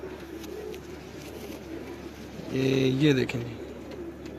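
Pigeons cooing close by in a Lahore loft, a short rolling coo rising near the end over a low hum, with someone speaking briefly beforehand.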